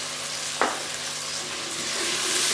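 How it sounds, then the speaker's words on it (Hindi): Chopped onions frying in oil in a pan, a steady broadband sizzle close by with a brief clink of a utensil early on, no talk. "प्याज को मैंने थोड़ी देर फ्राई कर लिया।"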